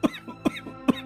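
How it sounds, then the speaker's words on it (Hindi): A man coughs loudly three times in a steady rhythm, each cough a harsh, close burst with short pauses between, and no talk around it. "वो जोर जोर से खांसने भी लगता है"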